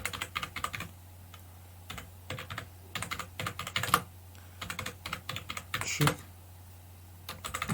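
Text typed on a computer keyboard into a Canva project, bursts of quick close key clicks separated by short pauses, fairly clear over a quiet background hum.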